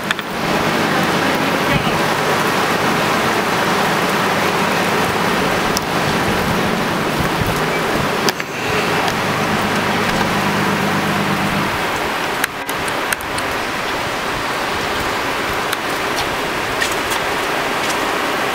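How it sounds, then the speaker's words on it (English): Heavy storm rain pours down steadily during a November storm chase in Northern Kentucky, a dense, loud, continuous hiss that fills the whole stretch with a brief dip midway. "Here comes the rain."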